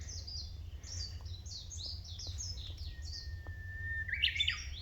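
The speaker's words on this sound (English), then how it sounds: "Love the sound of those birds though." Several small birds chirp and tweet in quick bursts against a quiet outdoor background, fairly near.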